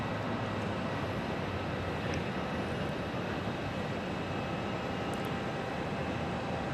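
Steady broadband jet roar of a Southwest airliner arriving at Phoenix Sky Harbor airport, loud and continuous with no clear rise or fall, no voices over it.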